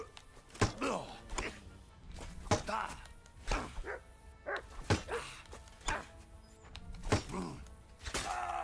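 A dog barks and whimpers in Kingdom Come Deliverance II, with sharp yelps and thumps recurring across the scene, mixed with game voices and combat noise.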